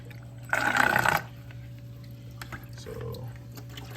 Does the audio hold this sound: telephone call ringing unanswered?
no